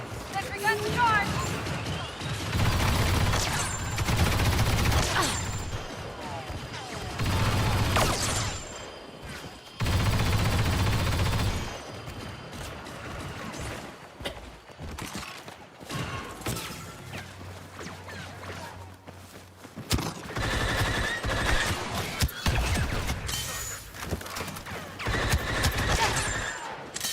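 Sentry guns and blasters fire during a Star Wars video game battle, with rapid bursts of loud, crackling gunfire coming in dense waves among explosions and crashes, while a voice talks over parts of the action.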